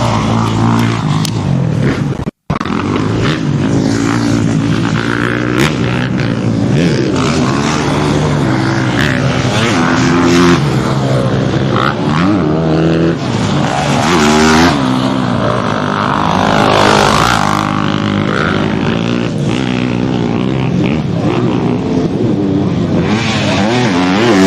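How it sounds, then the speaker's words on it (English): A Honda motocross bike at an East Fork MX riding camp revs hard, its loud buzzing engine rising and falling continuously over a long stretch, close and dominant with a brief dropout near the start. "you'll hear him, his bike will rev up here, and he's coasting by the bottom of the lip."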